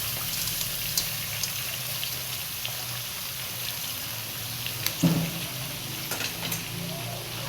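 Chopped papaya goes into a pan with sardines and fries with a loud continuous sizzle, as stirring scrapes and small clinks sound through it.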